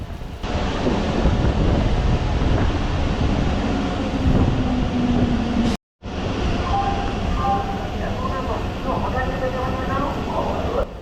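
Narasapur MEMU Express number 17269 pulls into Bhimavaram Town station with a rumbling, wind-buffeted roar, someone talking over it and a brief cut partway through.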